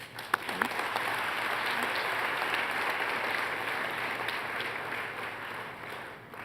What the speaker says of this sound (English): We applaud these students.